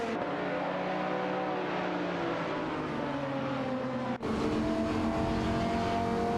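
Race cars battling in a racing video game give off a loud continuous engine roar, overlapping revs sliding up and down in pitch, with a sudden short drop and gear-shift-like surge partway through.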